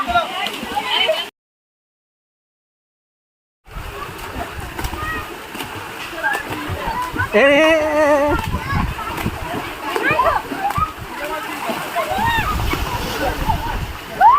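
Water from a water park tower pours and splashes down continuously at moderate loudness, a steady rushing wash, with a brief dropout of silence near the start and people talking over it.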